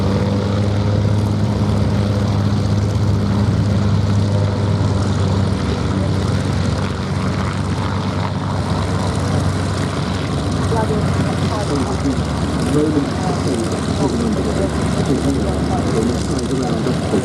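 A historic propeller aircraft from the Hawker Fury collection flies over the Duxford air show, its engine a steady distant drone rising gradually in intensity, with voices of a commentator or crowd audible throughout.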